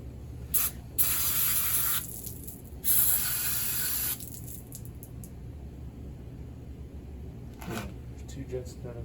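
Aerosol spray cleaner hissing onto the carburetor parts of a 1985 Dixie Bandit, three close bursts of about a second each followed by a couple of quick short puffs, with a low background hum.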